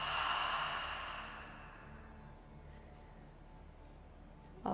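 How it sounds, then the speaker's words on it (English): A slow, deep breath let out through the mouth at the close of a yoga twist and stretch session: a soft, breathy exhale that is strongest at first and then tapers away into quiet. "Exhale at the mouth, let it go"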